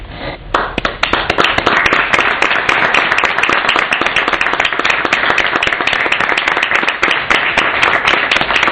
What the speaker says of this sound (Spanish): Muchas gracias por los aplausos.